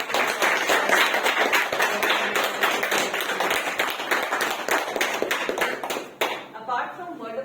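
A Toastmasters club meeting breaks into a round of applause, many hands clapping densely and close for about six seconds before it trails off into scattered claps and quiet.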